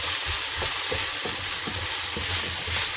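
Bacon and potatoes fry in a pan with a steady, dense sizzle and soft, regular scraping or stirring knocks underneath, close and continuous with no voices.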